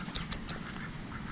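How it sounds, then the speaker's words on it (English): Several ducks quacking at a warm Florida spring, short nasal calls repeating over a steady background wash of water and ambient noise. "How well fed these ducks are."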